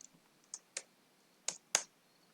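Keys tapped on a computer keyboard during a programming session, five or six sharp, separate clicks spaced irregularly over quiet room tone with no talking.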